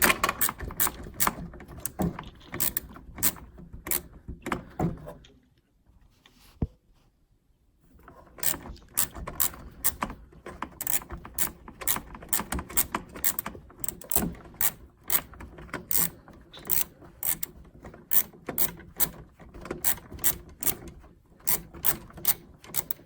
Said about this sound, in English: go and remove the bottom screw